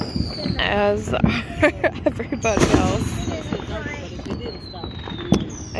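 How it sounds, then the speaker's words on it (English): Independence Day fireworks go off at an evening backyard celebration, with scattered pops and crackles both near and farther off, and people talk and cheer over them. "I think our local fireworks, yeah, they started already."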